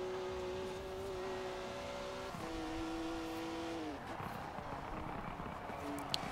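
BMW M4 GTS engine in Forza Horizon 4 drones at steady revs, then drops off throttle with a falling tone and burbling rumble, moderately loud with a faint pop near the end.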